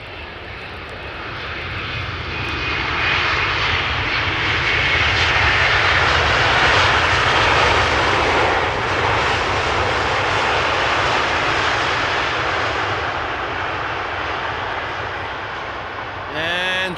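A KLM Boeing 777-200ER, 18 years old, arrives at Amsterdam Schiphol from Guayaquil, Ecuador, its engines building to a loud sustained roar that swells and holds, then fades toward the end.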